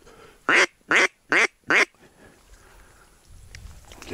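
Four loud, evenly spaced duck quacks ring out in quick succession at a duck hunt, followed by a quiet outdoor background.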